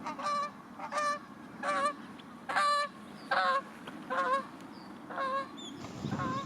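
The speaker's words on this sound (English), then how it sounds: "This is a Canada goose, or Branta canadensis." A Canada goose honks repeatedly in a lakeside water-bird setting, about eight loud nasal calls in a fairly regular rhythm with a soft ambient background in between.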